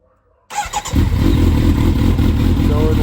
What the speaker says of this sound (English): let's start her up. This is a complete cold start.